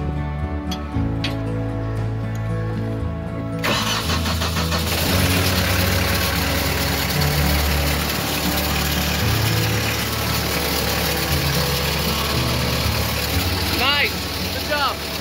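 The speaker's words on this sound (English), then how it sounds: "Sounds to me like the starter stayed engaged." A car engine runs loud and steady with its starter left engaged, a harsh continuous grinding drone that cuts in abruptly after a few seconds of quieter low rumble and lasts to the end.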